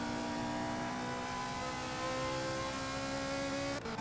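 Race car engine in the Indianapolis 500 Evolution video game at Trenton, holding a steady high-pitched whine down the main straightaway, loud and continuous with no talking, a brief dip near the end.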